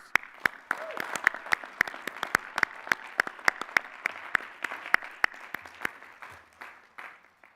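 Sparse, slow clapping from a graduation commencement audience honoring new doctoral graduates: individual claps ring out one after another over a faint wash of broader applause, then trail off.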